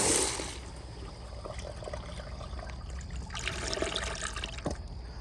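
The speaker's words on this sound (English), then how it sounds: "here's a very overpowered flush." A 2015 American Standard Allbrook urinal flushes hard at full pressure, a steady close rush of water running about five seconds and swelling near the end, with no talking.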